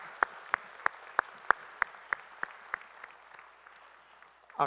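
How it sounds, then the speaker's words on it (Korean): In a church, the congregation claps in a slow, even rhythm, about nine sharp unison claps spaced evenly and fading slightly, before a brief noisy rustle at the very end. "우리 찬양 받으실 주님께 영광의 박수 올리겠습니다"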